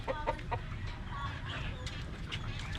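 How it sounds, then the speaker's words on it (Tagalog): Ducks on a rural farm in Bataan, several soft quacks and clucks close by at the start and then scattered farther off, over a low outdoor rumble. "may mga bibi"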